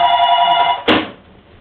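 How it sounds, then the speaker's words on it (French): A telephone bell rings loudly and close, a bright trilling ring that holds for most of a second, then cuts off with a short clatter and fades to quiet room noise. "Ça c'était le téléphone, je suis désolé."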